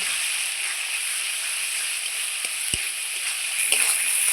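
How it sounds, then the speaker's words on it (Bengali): Masala with Kashmiri red chilli powder frying in hot oil for a Bengali fish kalia: a constant bright sizzle close up, with a few soft knocks and stirs near the end and no voices. "কালারের জন্য দিয়ে দিচ্ছি কাশ্মীরের লাল লঙ্কার গুঁড়ো। দিয়ে মশলাটাকে আমি খুব সুন্দর লাল লাল করে ভেজে নেব।"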